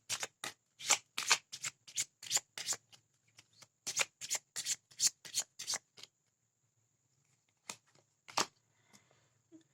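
Self-care cards are shuffled by hand in quick crisp riffling bursts, a dense run of snaps followed by a few scattered slaps after a pause, close and clear in a quiet room.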